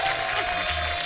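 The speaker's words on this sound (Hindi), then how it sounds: "जोरदार तालियां सुरेश पाजी और प्रियंका भाभी के लिए" A studio audience at a television comedy show claps enthusiastically in a brief, dense burst of applause welcoming guests onto the stage.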